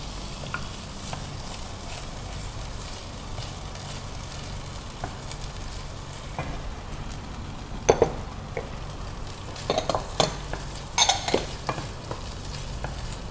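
Garlic and shallots sauté in a ceramic pan with a steady low sizzle, and clicks and scrapes from stirring grow busier toward the end.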